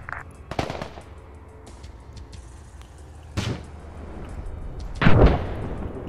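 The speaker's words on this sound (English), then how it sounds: "Heard some AT fire" Anti-tank weapon fire in a combat video game: a few sharp blasts spread across the moment, the last one loudest, over a low rumbling battlefield bed.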